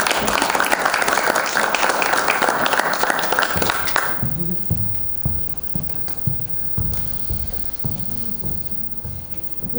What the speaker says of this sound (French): mais on peut encore l'applaudir